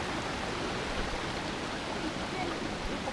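River water rushing over large rocks like a waterfall at Limay, Bataan, a dense, steady broadband roar that stays loud and unbroken for a few seconds, with no voices.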